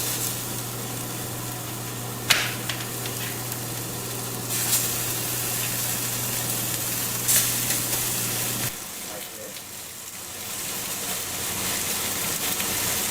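Lamb chops sizzling in hot canola oil in a pan, a bright steady frying hiss with a low hum underneath, punctuated by a few sharp crackles and pops; the hum drops away partway while the sizzle carries on.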